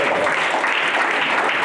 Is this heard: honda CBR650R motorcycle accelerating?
no